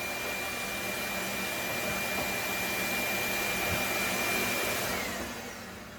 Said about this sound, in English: I got a vacuum system, a pretty cheap one, involving a shop vac